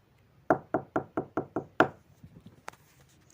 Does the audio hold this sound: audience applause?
no